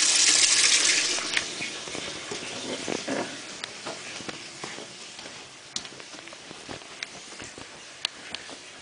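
GE Hotpoint washing machine filling with water, a steady rushing gush that is loudest at first and then settles into a softer hiss, with scattered small clicks and knocks.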